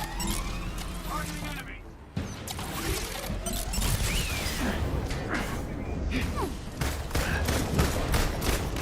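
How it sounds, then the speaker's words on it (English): Rapid bursts of gunfire from Black Widow in the Marvel's Avengers video game rattle amid whooshes, mechanical clanks and crashes of combat, with speech mixed into the busy game sound. "Oh, look at Black Widow coming in with those air combos of keeping them juggled with her gunshots."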